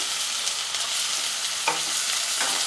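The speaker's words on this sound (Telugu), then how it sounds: "ఇవి బాగా మనకి మంచిగా బ్రౌన్ కలర్ వచ్చే వరకు బాగా ఫ్రై చేసుకోవాలి" Chopped onions and curry leaves fry in oil in a pan, a dense close crackling sizzle with a couple of brief stirring scrapes; no one talks.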